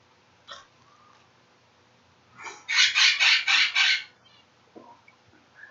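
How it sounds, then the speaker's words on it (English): A pet bird let out of its cage gives a short chirp, then a loud run of five rapid squawking calls, followed by a fainter chirp, all close by in an otherwise quiet room. "My bird says hello."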